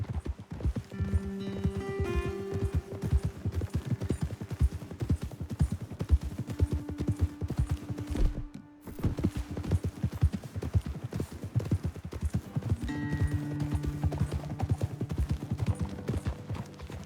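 Horses' hooves clop steadily on the ground as riders move along in a video game, a fast, continuous rhythm up close with a brief break midway and tonal game sounds in the background.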